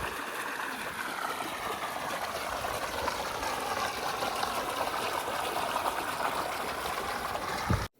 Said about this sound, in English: now not only do we have a cool water fountain feature, but it's also putting a ton of oxygen into the water